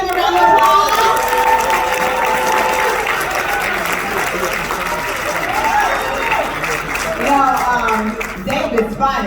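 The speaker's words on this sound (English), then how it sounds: "Give them a round of applause" An audience claps and cheers at an event in a Crowne Plaza hotel ballroom, with loud, sustained dense applause throughout and crowd voices and chatter mixed in.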